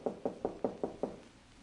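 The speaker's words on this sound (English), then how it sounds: "A knock at the door of my apartment aroused me from a sound sleep." Six quick, evenly spaced knocks rap on an apartment door, close and crisp, as an audio drama sound effect. The knocking then stops and leaves a short silence.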